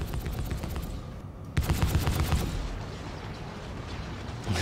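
A Super Ballista in a video game fires straight ahead, giving a dense run of rapid mechanical shots. A heavier thump lands midway before the steady volley carries on at moderate loudness.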